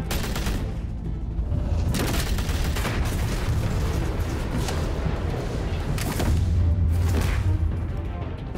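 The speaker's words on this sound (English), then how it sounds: "Mit dem MG." Machine gun fire in Batman: The Telltale Series, with rapid bursts of gunshots and booming impacts during a fight scene, loud and continuous, punctuated by sharp crashes.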